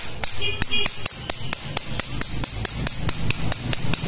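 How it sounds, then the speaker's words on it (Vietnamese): A hammer taps gently on a clogged spindle of a CNC wood router, a loud, even series of sharp metallic knocks about four per second, close up and with no voices. "mọi người cứ cầm búa gõ gõ khẽ nhá"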